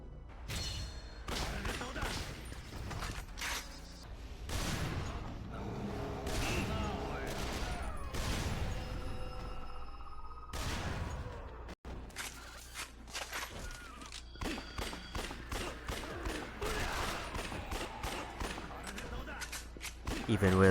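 In the zombie shooter Yakuza Dead Souls, repeated heavy booms ring out from an anti-material rifle, widely spaced at first and then coming faster, with thuds and game noise around them and talk layered over parts.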